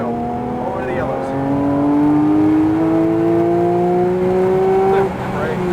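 A Porsche 992 GT3 accelerating hard on a race track: a loud, close, continuous engine howl whose tones climb steadily through the gears, briefly dipping at a shift near the end.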